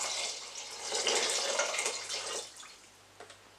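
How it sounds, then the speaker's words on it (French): Water is poured into a dish for microwave jambalaya, a steady close hissing splash for about two and a half seconds that then tapers off, with no voices. "On verse l'eau."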